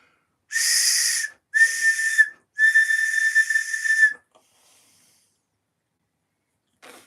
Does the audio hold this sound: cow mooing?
no